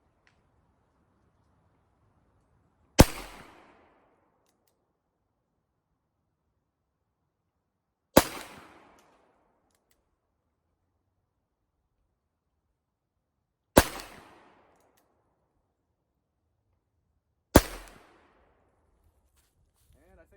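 A Taylor's & Company Schofield No. 3 revolver in .45 Colt with a 7-inch barrel fires four single shots outdoors, each a sharp crack with a short fading tail, spaced several seconds apart.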